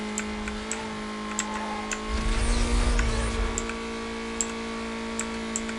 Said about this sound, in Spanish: me encanta el sonido de los motores en este juego